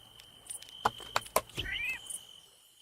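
A cat in the video game Moonlight Peaks gives a single short meow over a faint steady tone, with a few soft clicks just before it.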